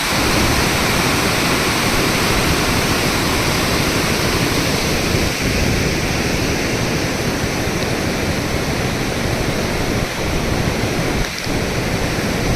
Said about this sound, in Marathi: घोड नदीला पूर आला आहे